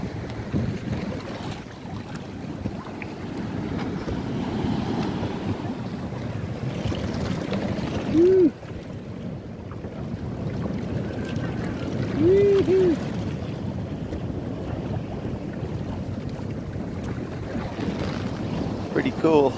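Steady wind and rolling ocean surf at a floating bridge in Khao Lak, Thailand, form a continuous broad roar with gusty rumble throughout, plus a couple of brief faint tonal calls.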